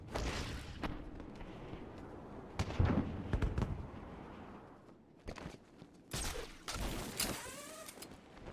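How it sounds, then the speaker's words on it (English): Batman strikes enemies in Batman: Arkham Asylum, the hits landing as sharp crackling bursts like fireworks, several irregular bangs and pops scattered over mid-level game ambience. "I don't know how Batman hitting someone sounds like fireworks,"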